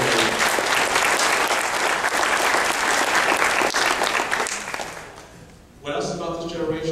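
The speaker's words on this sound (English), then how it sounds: "So I want to give them a round of applause because we need to." Audience applause at an APA planning conference, a loud sustained wash of clapping from a large crowd that fades briefly near the end before swelling again.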